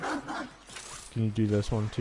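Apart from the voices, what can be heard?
dog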